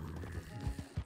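A horse neighs and snorts in a few short, close bursts, with soft thuds of movement mixed in, over a low background hum.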